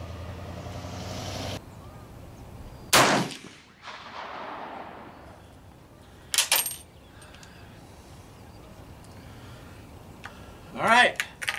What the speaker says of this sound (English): first shot I'm going to shoot right at the center of the black